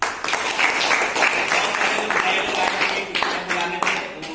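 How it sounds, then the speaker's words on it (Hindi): An audience gives a round of clapping to welcome a guest at a gathering. Crisp hand claps sound fairly close and continuous, with a voice faintly audible beneath them. "इनके लिए एक जोरदार ताली।"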